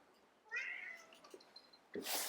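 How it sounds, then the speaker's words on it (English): A cat meows twice, a long drawn-out call followed by a shorter one, close by in an otherwise quiet room. "Sorry about my cat. My cat's just making some noise right now."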